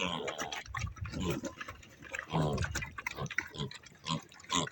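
Piglets feeding from a bowl alongside their mother on a farm, a busy stream of close snuffling grunts, smacking and wet chewing with no talk.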